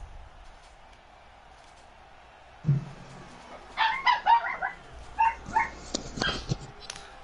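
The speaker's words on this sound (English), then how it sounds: "that was a puppy" A puppy yips and barks in short high bursts, fairly close, in two clusters after a soft thump, with a few squeaky whimpers between them.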